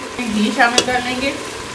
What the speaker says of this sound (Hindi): घी या ऑयल जो भी आप इसमें डालना चाहें डाल के हम मसाले को अच्छी तरह से भून लेंगे।